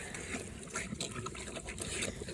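Piglets suck down milk from a feeding pan in a continuous, close wet slurping and gurgling that sounds like liquid being drawn and splashed, steady for the whole moment with no talk.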